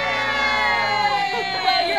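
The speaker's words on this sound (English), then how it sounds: "Cheer with your hands in the air." Wedding guests cheering with hands raised, a loud, continuous crowd roar of shouts and whoops filling the moment without a break.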